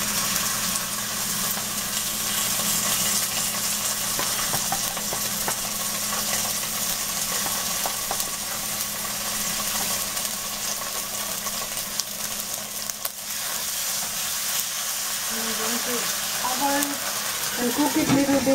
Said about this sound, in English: And cook it a little bit in low heat, about 5-10 minutes.